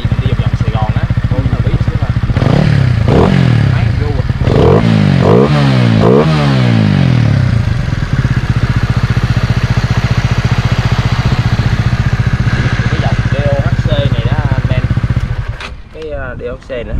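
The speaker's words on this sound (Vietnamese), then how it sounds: "Thì em nổ máy nhẹ để cho em nghe trước cái đi." A Honda Winner motorcycle with a slightly choked exhaust idles close by, blipped through several rising and falling revs in the opening seconds before settling into a steady idle that cuts off near the end.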